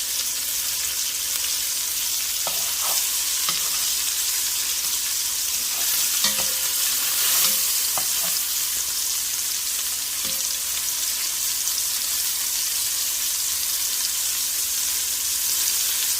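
Two pounds of beef chunks browning in a pot for beef bourguignon, a steady loud sizzle and crackle throughout, with occasional clinks and scrapes of stirring.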